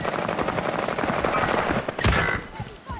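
Automatic gunfire in the video game Call of Duty: Warzone, dense rapid shots in a continuous rattling burst with a louder crack near the end, heard through game audio.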